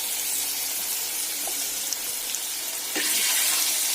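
Pempek frying in hot oil until the skin turns crisp and brown, a steady, dense sizzle that swells louder near the end, with no talk.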